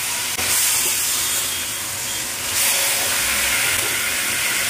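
Marinated chicken hitting a hot pan in a home kitchen, giving a loud, steady broadband sizzle with a brief sharp onset and a second surge partway through, continuous throughout.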